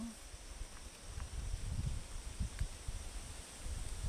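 Wind blowing steadily outdoors with leaves rustling, a continuous broadband rushing and buffeting close to the microphone, with low gusty rumbles throughout.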